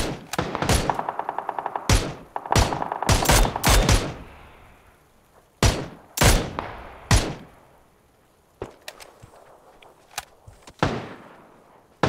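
Shotgun blasts and other gunfire in PUBG: a quick rapid burst, then separate sharp booming shots spaced out over the span, mid-distance and fairly loud with quiet gaps between.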